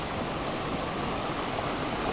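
Steady, dense rushing roar of the Cascada Paraíso Escondido waterfall in Berriozábal, Chiapas, continuous and fairly close, with no voices.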